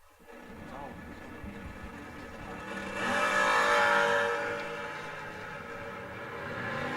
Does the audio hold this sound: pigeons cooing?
no